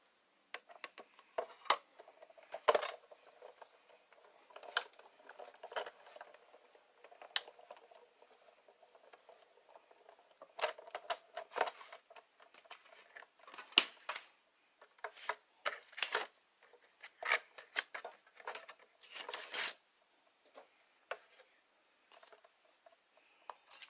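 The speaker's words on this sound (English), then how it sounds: "I'll be cutting some leaves with the Big Shot" A Big Shot die-cutting machine cuts paper leaves, giving a quiet, continuous run of close clicks, ratchets and patters over about twenty seconds. The sounds come in irregular bursts, with no voices.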